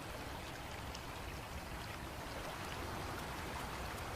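A river flowing in owl wildlife footage, a steady soft rush and trickle of moving water at low level, unbroken and without voices.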